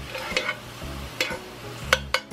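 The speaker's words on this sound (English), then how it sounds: "Cook up our mushrooms in that bacon fat." Mushrooms frying in bacon fat in a pan, with a steady low sizzle broken by a few sharp stirring scrapes and clicks of a utensil, close and moderately loud, no talking.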